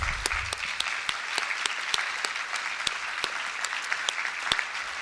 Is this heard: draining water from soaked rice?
no